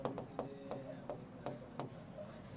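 Handwriting on a board or paper during a biology lesson, short scratchy strokes repeating in an uneven rhythm, close and moderately quiet.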